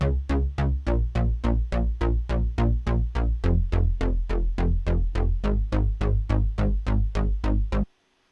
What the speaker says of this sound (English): I had the Serum Plucky bass, which I use in a lot of my songs.